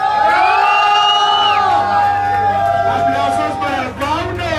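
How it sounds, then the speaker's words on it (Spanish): A bar crowd cheers and whoops loudly with shouting and excited voices layered over one another, a continuous rowdy roar that stays close and strong throughout. "Aplausos para nuestro"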